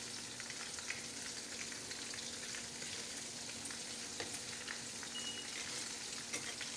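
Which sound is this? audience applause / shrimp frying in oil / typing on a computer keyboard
shrimp frying in oil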